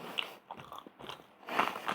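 Close crunching and biting on a pork bone, a few sharp crackling bites spread over two seconds with a louder burst near the end, no talk.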